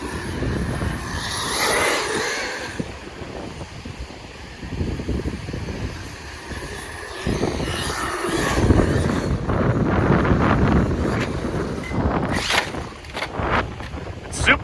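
Strong wind buffets the microphone in heavy rumbling gusts that swell and fade, with broadband roaring noise throughout.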